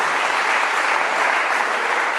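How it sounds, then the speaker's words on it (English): A conference audience applauds panelists on a housing forum stage, a thick, uniform roar of clapping from many hands, loud and sustained with no breaks or voices. "big round of applause for our panelists"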